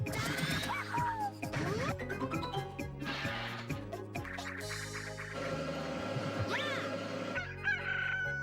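Chickens cluck and a rooster crows loudly in the video game Billy Hatcher during back-to-back chicken levels, overlapping bird calls over busy game music and effects.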